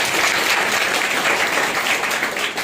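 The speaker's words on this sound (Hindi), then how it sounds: "एक जोरदार ताली बजाइए।" A congregation at a Christmas church service breaks into loud, sustained applause, a dense continuous wash of many hands clapping that fills the room evenly from start to finish.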